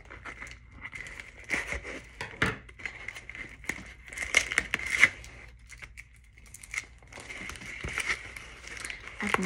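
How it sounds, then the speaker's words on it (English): A plastic parcel package from a Temu haul cut open with repeated crinkling, tearing and snipping in uneven bursts, with a voice talking now and then. "I need to cut this open."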